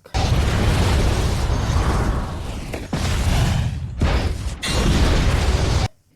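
A ship blows up in a film scene: a sustained roaring explosion with several sharp bursts and cut-offs, loud throughout, then ending abruptly in near silence.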